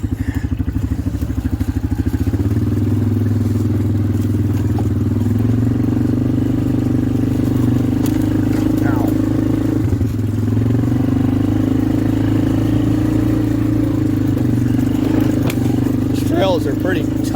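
A Polaris 425 ATV engine drones steadily and loud while riding tight, technical wooded trails, with a constant low rumble, slight revving and clatter from the machine.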